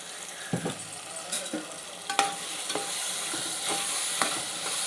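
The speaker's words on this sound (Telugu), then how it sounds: "పచ్చి వాసన పోయేదాకా వేపుకోవాలండి" Masala fries in oil for boti curry with a steady sizzle, broken by frequent scraping and tapping strokes of a spoon stirring the pan, close and moderately loud, with no talking.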